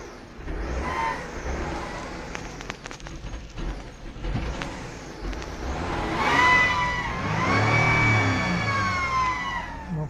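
A Hyundai Tucson 2.7 V6 engine on a cold winter start revs up, its rising roar joined by a strange high-pitched whistle that sweeps upward with the revs, loud and close, with brief clicks before.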